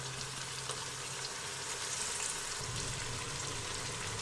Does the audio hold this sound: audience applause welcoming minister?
no